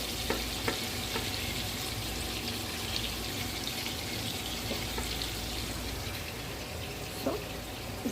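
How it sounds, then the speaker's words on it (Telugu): Fish shallow-frying in a pan gives a steady, loud crackling sizzle for the whole stretch, broken by a few sharp pops and spatters, with no talking. "సో ఇది అండి ఫిష్ ఫ్రై"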